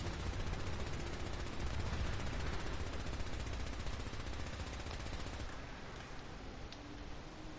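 Gunfire from a gun in a heavily modded game of Fallout 4, heard as a steady, unbroken burst of rapid automatic shots, fairly quiet and continuous for several seconds with no voices.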